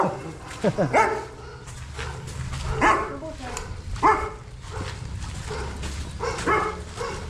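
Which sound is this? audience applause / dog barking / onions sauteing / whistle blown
dog barking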